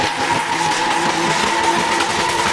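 Three-litre drift car at a Lithuanian drift championship round at Madžiūnai, engine roaring hard with tires squealing and skidding, loud and continuous throughout with no talk.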